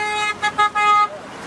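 Car horns honk in traffic on roads leading north in Lebanon as thousands flee bombing, with several loud, sustained toots in a short broken sequence followed by a quieter tail.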